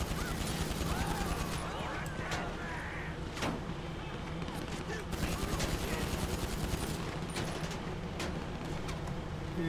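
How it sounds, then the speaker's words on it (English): Gunfire crackles in GTA 5 Online, faint scattered shots buried in a steady wash of game noise and engine rumble, with a few sharper cracks standing out from the constant background. "And people are shooting at me."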